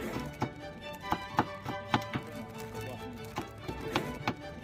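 A knife chops hotdogs into small pieces on a board: a steady series of sharp taps, about a dozen, in an uneven rhythm over a dull background hum, close to the listener, with no one talking.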